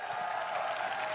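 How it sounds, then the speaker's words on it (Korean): Applause from a political rally crowd in Cheongju, a steady dense clatter of clapping held for the whole moment without pause. "큰 박수 부탁드립니다."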